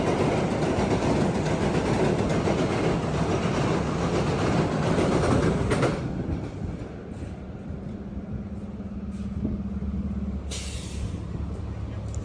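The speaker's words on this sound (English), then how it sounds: "Trains are moving now." A train rolls by on the rails near a major gas-main emergency scene in New York City, with a loud, dense rumble that drops away halfway through, leaving quieter rail noise and a brief hiss of brakes.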